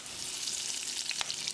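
Mustard seeds, fenugreek, dried red chillies and curry leaves fry in hot coconut oil in a pan for Kerala tuna fish curry, making a close, steady sizzle with small crackling pops.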